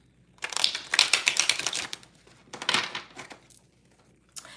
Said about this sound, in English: I am gonna shuffle this deck real quick.